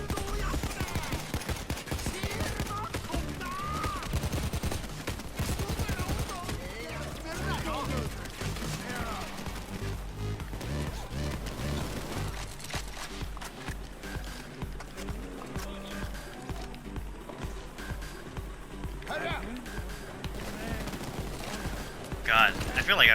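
Sustained assault rifle and SMG fire aimed at an armored dozer in a shooter game: dense, continuous automatic bursts that stay loud throughout, with a voice talking over the shooting.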